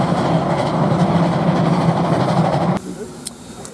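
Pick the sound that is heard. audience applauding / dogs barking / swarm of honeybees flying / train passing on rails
train passing on rails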